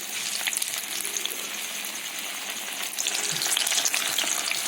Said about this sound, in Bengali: একইভাবে সবগুলোকে ভেজে তুলে নেব